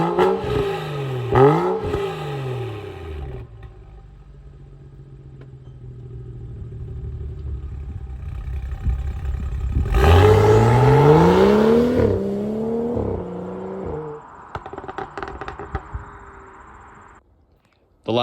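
A BMW F30 335i engine with a resonator-deleted exhaust revs up hard several times, loud and raspy, dropping back to idle between throttle blips, then crackling as it settles.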